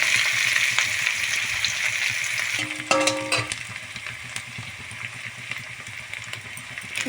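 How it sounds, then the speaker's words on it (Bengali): Onions frying in oil in a pan for bhindi masala give a steady, close sizzle throughout, with a brief metallic clatter near the middle and no talking. "পেঁয়াজটা দিয়ে একটু ভাজা হওয়ার জন্য একটু ছেড়ে দেবো"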